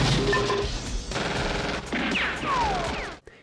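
Gunfire in an action film shootout as boxes of fireworks and explosives are hit, rapid loud bursts of shots with crashes and whizzing ricochet-like sweeps, dense and continuous without talk.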